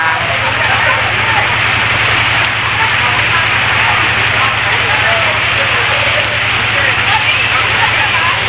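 Rain falling at a beach in Zambales on a rainy swimming day, a dense steady hiss of drops with a low hum underneath, constant and fairly loud throughout.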